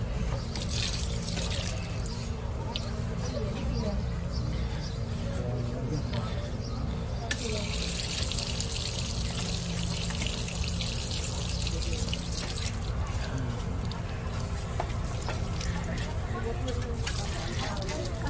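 Cold water running steadily from taps at the historic Hazrat Salman Farsi (Al Faqir) well in Madinah, a continuous splashing flow with changes as hands move under it, while someone talks over it.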